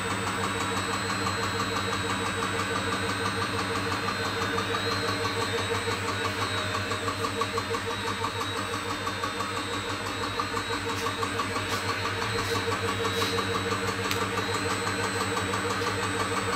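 A Tormach lathe runs its warm-up cycle at 500 RPM with a 20-inch-per-minute feed, giving a steady, continuous mechanical hum with constant tonal whine that holds even throughout, fairly close and without speech.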